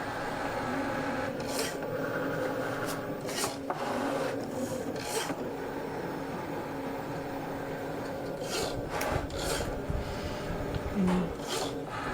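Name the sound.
Cricut Maker 4 cutting machine scoring material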